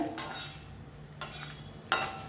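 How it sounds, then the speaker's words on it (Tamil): Grated coconut roasting in a pan for sambar gets stirred with a utensil, giving three short scraping swishes over a soft background sizzle, close and fairly quiet. "அரைச்சி வைக்கிற குழம்புக்கு தேங்காய் துருவல் போடணுங்க. அதையும் வறுத்துக்கலாங்க."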